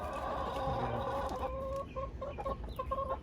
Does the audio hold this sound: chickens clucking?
yes